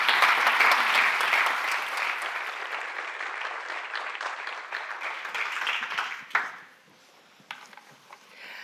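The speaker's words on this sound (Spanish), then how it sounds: "Un aplauso para recibirla." Audience applause at a digital transformation conference in Spain, a dense steady clapping that fills most of the clip before quickly dying away, leaving a few scattered claps and near silence.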